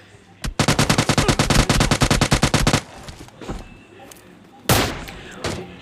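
Gunfire in a zombie-mode shooter game, a long rapid burst of sharp loud shots followed by scattered thuds and one more heavy blast, no talk.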